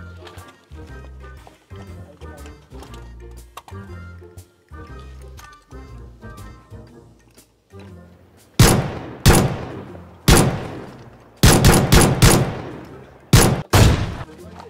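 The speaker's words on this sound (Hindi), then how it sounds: "गार्डन में बंदे हैं, उनको गोलियां मारो यार।" Gunfire in the BGMI battle royale video game: sharp, loud shots ring out in bursts and single cracks, growing denser toward the end over game music and ambience.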